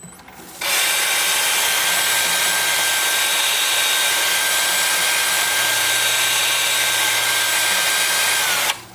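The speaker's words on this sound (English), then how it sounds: "now I have a 2-inch disc that I can put on my drill" Electric drill fitted with a 2-inch hook-and-loop sanding disc smoothing the inside of a turned wooden bowl, a loud, continuous high whir running steadily for about eight seconds before stopping, no voices.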